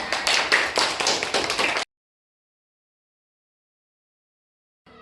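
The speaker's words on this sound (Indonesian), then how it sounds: "karena sudah selesai kita beri tepuk tangan" Hands clapping in applause after a sixth-grade class drama at an elementary school, a brief burst of scattered claps that stops abruptly into silence, then a faint resumption at the end.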